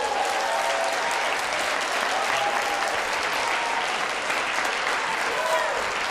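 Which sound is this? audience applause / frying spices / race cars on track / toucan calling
audience applause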